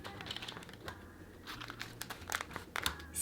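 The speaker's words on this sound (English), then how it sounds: "Cut the rice paper in quarters." Rice paper being cut into quarters with scissors, giving a run of crisp, crinkly snips and rustles close up, quiet and with no talking.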